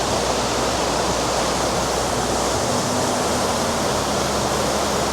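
Waterfall at Cat Cat Village in Sa Pa, Vietnam, roaring as a loud, continuous broadband rush that holds steady throughout with no pauses or talk.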